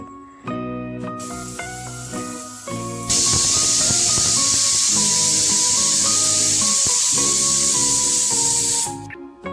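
A pressure cooker holding mutton biryani vents steam in a loud, continuous hiss that starts a few seconds in and runs for about six seconds before stopping sharply, with background music playing throughout.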